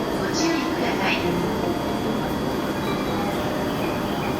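Tokyo commuter train at a station, steady broad rumble and hiss of the stationary train with faint chime tones near the start, continuous and fairly close as the doors close.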